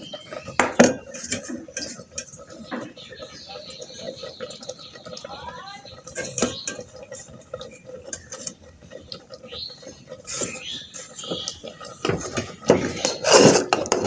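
A utensil stirs grated coconut into coconut milk pudding in a metal pot, giving repeated scraping and clinking of spoon against pot, uneven and close, with a voice talking over the stirring.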